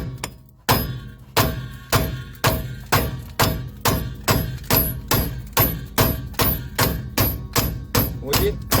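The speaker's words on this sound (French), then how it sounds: "j'utilise burin pointu pour pas abîmer et je tape dessus" A hammer strikes a pointed chisel again and again to drive an axle in while servicing the rear drum brakes of a Volkswagen T3, giving a steady run of sharp metallic blows about twice a second, close and ringing.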